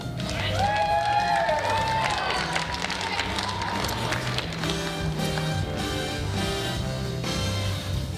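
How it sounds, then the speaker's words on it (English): A theater class audience breaks into applause and cheering for a performer after a comedic monologue, a dense burst of clapping and whoops that carries on under background music. "Round of applause for that."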